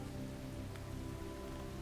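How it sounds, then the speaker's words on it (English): Rain falls on a roof during a thunderstorm, a dense continuous hiss with a steady low hum beneath it, unbroken and moderately loud, with no voices. "rain begins to fall on the roof"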